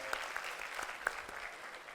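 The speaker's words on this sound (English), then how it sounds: "Clap, everyone should clap." A few lecture attendees clap sparsely and faintly, a handful of scattered, distant claps spread across a brief quiet moment rather than full applause.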